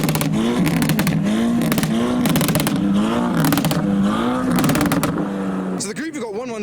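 A Seat Cupra and a Honda Civic EP3 revving in a rev battle, engines rising and falling in repeated sharp pulses, loud and close, with a crowd cheering over the revs toward the end.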